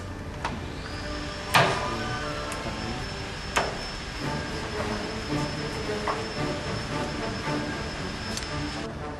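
An ACER 17-inch precision engine lathe cutting seven threads per inch gives off a steady mechanical rumble with a faint high whine, broken by a couple of sharp metallic clanks early on.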